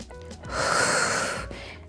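A single deep breath in and out, close and audible, taken during a foam roller exercise, swells and fades over about two seconds.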